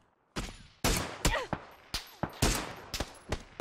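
Gunfire in a shooter video game, with about a dozen sharp, loud shots in irregular bursts, some spaced apart and some fired in quick succession, each followed by a short decaying tail, and no voices.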